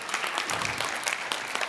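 An event audience breaks into applause, a continuous dense clapping sustained at an even level throughout.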